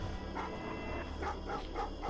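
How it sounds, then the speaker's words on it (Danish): Dogs bark in the horror video game Sign of Silence, several muffled yelps recurring at a distance over a steady low ambient drone, with no talking. "Kan de hundene holde munn?"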